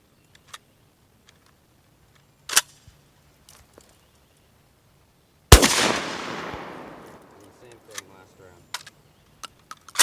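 A Lynx-12 shotgun loaded with birdshot fires a single loud, close blast that rings out and decays over a few seconds, preceded and followed by scattered small clicks and handling knocks.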